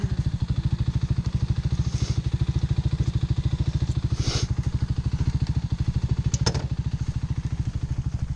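A Honda Hawk 250 motorcycle engine idling and ticking over steadily during clutch control practice, a close, even rapid pulse throughout with a few faint clicks and scrapes on top and no talk.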